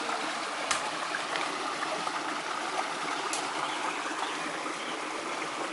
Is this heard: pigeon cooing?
no